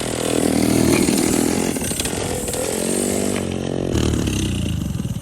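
Rotax Max racing kart two-stroke engine revving hard up close, a raspy buzzing roar that surges and dips in pitch as the throttle is worked, loud and continuous with no talk over it.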